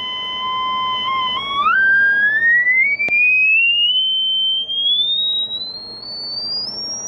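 A pure test tone plays from a loudspeaker, starting as a steady high whistle, then sweeping smoothly and continuously upward in pitch for several seconds, loud and alone with no voices.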